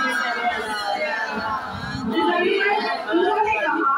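Crowd chanting slogans at a Shia religious majlis gathering, many voices raised together in a loud, sustained, rhythmic chorus that swells toward the end.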